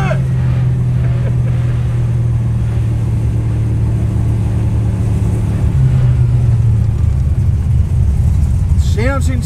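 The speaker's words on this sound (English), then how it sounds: "Sounds insane, that idle, man." A Ford XW GT V8 at Summernats idles with a deep, steady, loud rumble that runs throughout and lifts slightly near the end, with voices of people talking over the engine.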